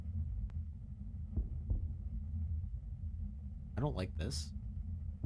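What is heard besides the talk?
heartbeat sound in horror RPG video game In the Midnight Light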